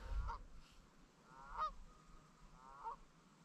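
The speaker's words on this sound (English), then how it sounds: "There's a crazy amount of geese and stuff over here" Geese honking at Lintrathen Loch in Scotland, three faint, separate calls spaced over a few seconds above low wind and ambient noise.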